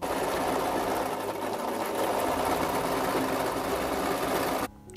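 A sewing machine stitching side pieces onto the bottom of a backpack made from a jacket, running as one continuous, steady whir close by until it stops abruptly just before the end.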